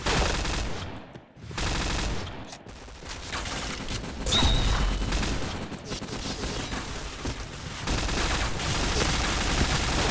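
Rapid bursts of MP7 submachine gun fire in the shooter game Point Blank, loud and sustained across the whole stretch with brief gaps between volleys, alongside other gunfire and game effects.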